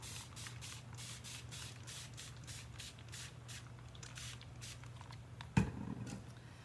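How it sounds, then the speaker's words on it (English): Repeated quick bursts of spray from a water bottle misting decoupage craft paper, about a dozen close, crisp pumps in steady rhythm over a low hum, ending with a brief clunk. "And then we're gonna spray them with water."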